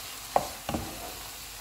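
A spatula stirs fried masala and fresh coriander in a pan for egg bhurji, two soft scrapes over a faint, low sizzle.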